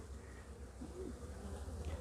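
A faint, steady buzzing of honeybees working blooming acacias, under a low outdoor background hum, continuous and soft throughout.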